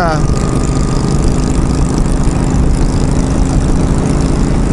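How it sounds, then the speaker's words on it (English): A Kawasaki Concourse motorcycle engine runs while riding, a loud, smooth, continuous drone with heavy wind rush, steady and close from start to finish. "that motor's really smooth and very fast"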